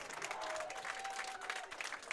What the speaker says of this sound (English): The fans cheering them on